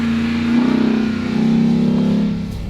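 A Ram RHO pickup truck's engine accelerating on a freeway, a loud steady drone that swells and holds with a faint rise in pitch, then eases off slightly near the end, with no talking over it.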